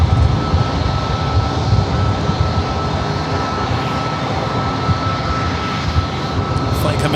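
A UPS Boeing 767 cargo jet arriving at San Diego airport, a continuous loud engine roar and rumble throughout, with faint talk under it.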